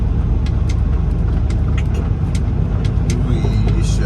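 A truck rolls slowly across a dirt lot, its engine a steady, loud low rumble with faint rattles and brief hisses riding on top, no talk.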